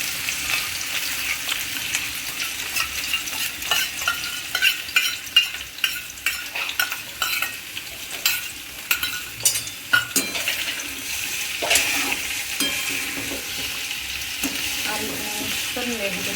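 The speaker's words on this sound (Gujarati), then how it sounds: "પહેલાં બટેટા નાખી દઈશું પછી એને આ મિક્સ કરી દઈશું" Potatoes frying in a pan as they are stirred, with a steady loud sizzle and frequent scraping and clinks of the spoon against the pan, close up and without talk.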